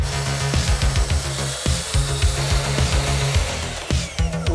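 Saw cutting a plywood board along a ruler in a garage: loud, dense cutting noise with rhythmic low strokes repeating roughly every quarter second, continuous and close throughout.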